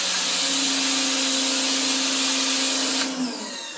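Stihl RE 90 electric pressure washer sprays with a flat non-rotary nozzle, a loud steady whining hiss that runs unbroken for about three seconds, then the motor cuts off and winds down.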